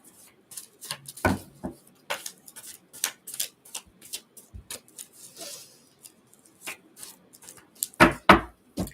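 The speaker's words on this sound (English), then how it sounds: "Give it a good shuffle." Angel oracle cards being shuffled by hand, a run of soft, irregular riffling taps and slaps, close and fairly quiet, with a couple of sharper bursts near the end.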